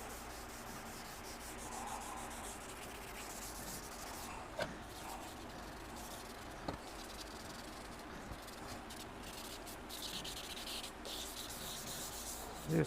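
Light hand sanding of a Mini car hood with sandpaper, a steady soft rubbing and scraping that continues close up throughout, broken by a few faint taps.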